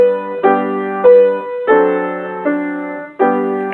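Piano plays the opening bars of a tune, with a melody line over left-hand quarter-note chords. The chords strike in a steady pulse, each one ringing and decaying before the next, loud and close with no talking.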